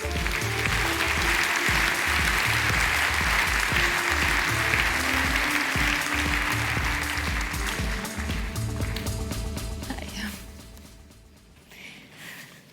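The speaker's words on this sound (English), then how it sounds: "A warm applause for Richard Quest." An audience at the Swiss Economic Forum 2021 applauds to welcome Richard Quest, with thick, steady clapping over walk-on music that thins out and fades after about ten seconds, leaving the music alone.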